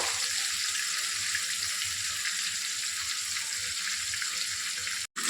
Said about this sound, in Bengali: এপিঠ ওপিঠ একটু ভালো করে ভেজে নেব।